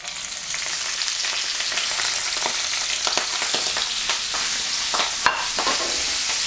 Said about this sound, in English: I'm going to drop the Brussels sprouts, the seasoned Brussels sprouts, in the pan